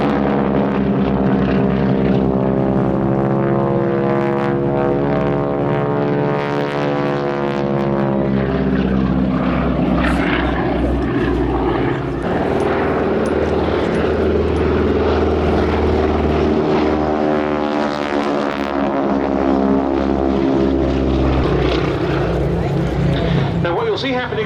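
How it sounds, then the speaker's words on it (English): Wingwalking display aircraft at the East Kirkby Air Show pass and pull up for synchronized barrel rolls, a loud continuous propeller engine drone rising and falling throughout, with a commentator talking over it. "In they come once again, and they'll be pulling up for synchronized barrel rolls."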